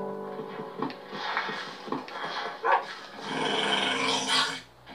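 Dog growling and barking inside a Minecraft village, rising and falling over several seconds, with a continuous dense game background behind it.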